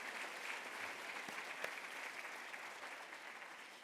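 Audience at an annual gala award celebration claps together, a dense, even patter of many hands at moderate, fairly distant level, with one sharper clap standing out midway.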